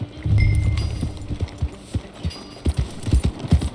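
Horse hooves clip-clopping in a Red Dead Redemption 2 ride, an uneven series of close, moderately loud thuds following a brief louder rumble at the start.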